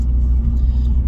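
Close, low rumble of a 2016 Cadillac ATS-V cruising through downtown Atlanta in the evening, a steady engine and road drone with no talking.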